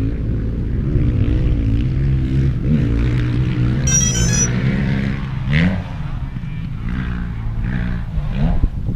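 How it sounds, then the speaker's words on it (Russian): A DJI Phantom 4 quadcopter drone powers up on a makeshift landing pad, a steady loud motor hum running throughout while someone speaks Russian over it. "Включаем коптер."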